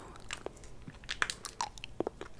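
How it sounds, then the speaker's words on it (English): Watermelon Jolly Rancher hard candy being crunched and chewed close to the mic, a series of sharp irregular cracks and bites over about two seconds with soft mouth sounds between, no talking. "Crunch and Chew."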